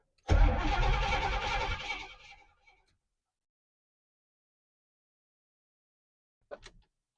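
A Firebird car engine, long without battery power, cranks with a loud churning grind for about two seconds, then cuts out into silence; a brief faint noise follows later.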